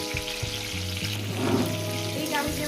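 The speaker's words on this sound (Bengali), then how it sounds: "টমেটো দিয়ে দিলাম বন্ধুরা টমেটো দিয়ে তাই আমি ভেজে নেব" Tomatoes fry in a pan with a steady, close sizzle, a continuous crackling hiss with a low hum running underneath throughout.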